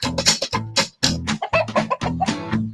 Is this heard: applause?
no